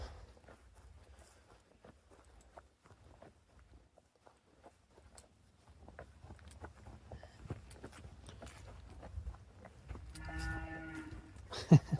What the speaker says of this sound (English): Those cows are dramatic.